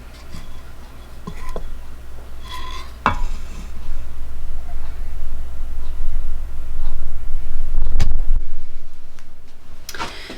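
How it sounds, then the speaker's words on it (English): A spoon stirring elderberry syrup in a pot, giving scattered scrapes and clinks against the metal over a quiet background hum, with a sharper knock near the end. "give your elderberry syrup a little stir"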